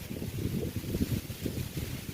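Wind buffeting the microphone on a fishing outing in breezy weather, a low rumbling gusty roar pulsing steadily and close.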